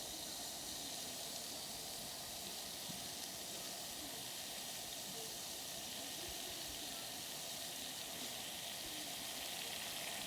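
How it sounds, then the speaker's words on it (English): Water at a rapid boil on a homemade Fancy Feast cat-food-can backpacking stove, giving a steady, continuous hiss and roar with soft bubbling texture throughout, close and even, with no talking. "I think we can safely call that a rapid boil"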